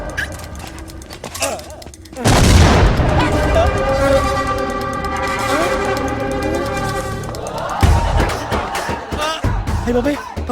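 Bomb blasts go off in a Telugu comedy film scene, with one loud booming explosion and a second burst several seconds later. A rumbling din, along with faint background voices and music, fills the space between them.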